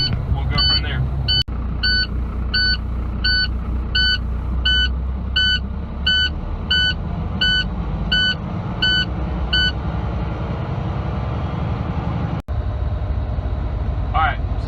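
A truck idles with a low rumbling engine while building air pressure, and a low-air warning alarm beeps in a rapid, steady sequence for several seconds before stopping.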